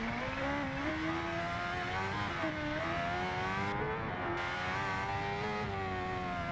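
Kawasaki H2R motorcycle engine in the racing game Ride 2, a loud, sustained high-pitched whine that stays near full throttle the whole time, wavering slightly in pitch with no break.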